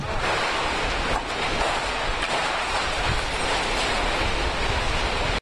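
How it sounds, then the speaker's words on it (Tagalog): Strong, roaring super typhoon wind in Tacloban buffets the microphone continuously, a dense gusting rush with no letup until it cuts off at the end. "At kasalukuyan na ang binabayo ng malakas na hangin itong syudad."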